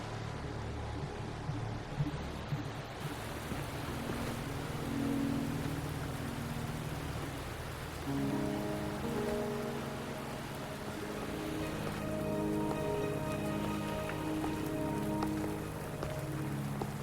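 Rain falls steadily in the video game Wuthering Waves, a continuous hiss of drops on surfaces with soft tonal game music rising beneath it, no voices.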